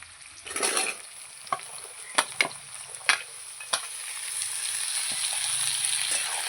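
Vegetables and onion fry together in a pan, a steady sizzle that swells toward the end, punctuated by several sharp clacks of a spoon stirring against the pan.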